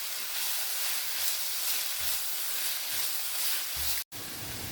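Kerala-style egg roast masala sautéing in a pan until browned, a steady broadband sizzle and hiss running throughout with a brief cut near the end, no talking.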